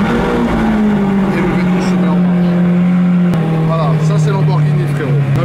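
A Lamborghini V12 engine roars loudly up close, a sustained high-pitched growl that sags slightly in pitch as it settles, with a voice talking over it.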